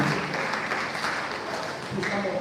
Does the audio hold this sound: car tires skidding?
no